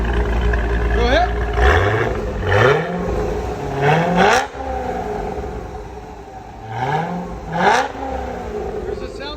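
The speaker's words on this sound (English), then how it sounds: "This is what it sounds like with the Corsa system." An 800hp Hennessey-tuned Chevrolet Corvette ZR-1 with a supercharged 6.2L V8 and Corsa true dual exhaust revs hard several times, each loud blip climbing in pitch and roaring before it drops back to a rumbling idle nearby.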